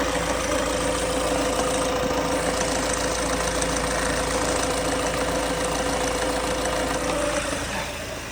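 Peugeot Expert van engine idling just after a restart, a steady close diesel-like rumble with a faint knocking rattle, continuous and loud throughout.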